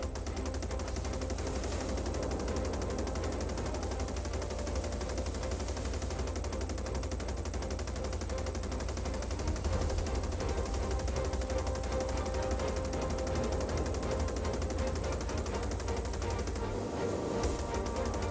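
Dense, steady rapid gunfire striking a spaceship's hull in the space combat game Star Citizen, continuous and loud throughout with a low rumbling bed and a brief dropout near the end.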